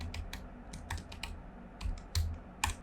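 Someone types on a computer keyboard, a series of close, crisp key clicks in irregular bursts with short pauses between.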